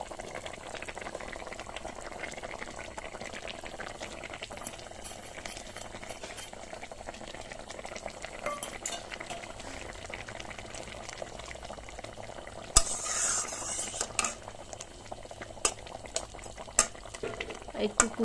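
A light rui fish curry with mustard-poppy paste bubbles at a steady, quiet simmer, with occasional scrapes and clinks of stirring near the end.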